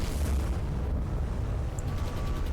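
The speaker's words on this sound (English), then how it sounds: "I think that might have been a magazine explosion" Heavy rumbling explosion blast of a warship's magazine going up in the naval game War on the Sea, a dense low roar sustained across the moment, with faint pinging tones near the end.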